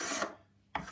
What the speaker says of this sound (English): I'm just tapering the braces away until they make contact with the side